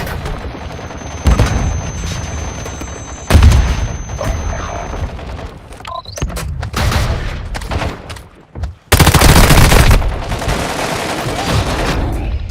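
Grenade blasts and bursts of rapid gunfire from the Warzone Mobile shooter game: loud, close booms and crackling volleys that come in several separate waves, with a brief lull in the middle.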